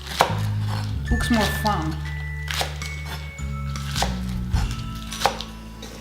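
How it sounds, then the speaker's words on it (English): A knife chops onions on a board while a leg of lamb is being prepared, giving a run of quick, close, crisp knocks in short bursts with brief pauses, over a low steady hum and a few spoken words. "So I chopped all the onions."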